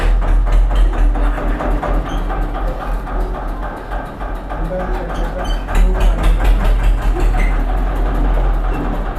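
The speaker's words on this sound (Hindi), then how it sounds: "ट्रैक्टर का प्रचार है ये" A tractor engine rumbles through a television advertisement, a heavy, throbbing drone with fast mechanical pulses that stays loud and steady. Speech runs over the engine for part of the time.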